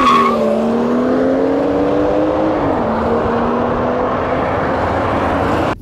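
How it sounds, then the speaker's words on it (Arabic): A 2019 BMW 340 driving off, its engine droning loud and close with a steady rising hum and a brief dip as a gear changes, continuous throughout before cutting off at the very end. "يا محمد تعال نجرب العربية يلا بينا"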